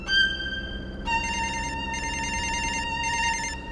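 A telephone rings in repeated bright electronic bursts, a short ring followed by three longer pulses, clear and steady with no voices.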